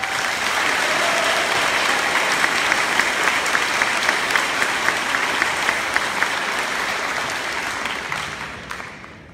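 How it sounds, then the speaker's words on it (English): An audience at the Hawkins County Schools annual teacher assembly gives speakers a sustained round of applause, loud and dense clapping filling the hall before tapering off at the end. "Let's give our speakers one more round of applause."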